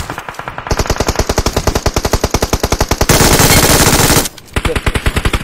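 Loud, rapid automatic gunfire in a PUBG Mobile scrim match, an evenly spaced stream of close shots with a brief sustained blast of fire, a short pause, then the rattling bursts resume.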